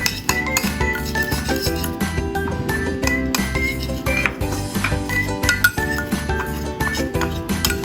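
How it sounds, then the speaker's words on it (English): A spoon clinks and scrapes against a bowl while spicy tofu sauce with salt and vegan oyster sauce is stirred, giving a rapid, irregular run of close metallic taps and chinks. "Mix evenly with spoon."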